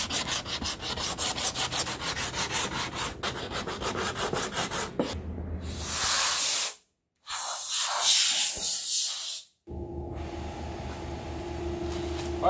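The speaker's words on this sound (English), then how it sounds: "I'm gonna go ahead and score this with some 36 grit" A damaged Mercedes bumper is scuffed with coarse 36-grit sandpaper in fast, rhythmic back-and-forth strokes, close and loud, breaking into longer harsh rasps with two brief pauses.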